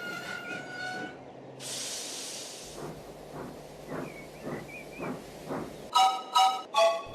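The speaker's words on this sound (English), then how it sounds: "He shunted the coal cars onto a different line." A train shunting coal cars along the rails with rhythmic clanks and a burst of hissing steam, followed by a few short whistle blasts near the end.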